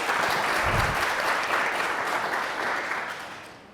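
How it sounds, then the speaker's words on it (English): A short burst of audience applause during a hybrid webinar, a dense clapping wash at moderate volume that gradually fades over a few seconds. "Big round of applause."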